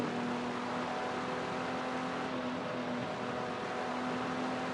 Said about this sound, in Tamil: வண்டி ஸ்டாக் கண்டிஷனில் இருக்குது ஸோ அதுலேயே சவுண்டு சூப்பர்பா இருக்கு வண்டி